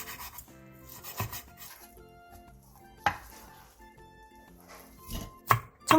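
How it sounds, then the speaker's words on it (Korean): A knife chops prepared taro stems into bite-size pieces on a cutting board in a home kitchen, giving a few scattered thuds and soft scraping with quiet background music and no talking. "독성을 뺀 토란대 1줌 반을 먹기 좋은 크기로 잘라주세요."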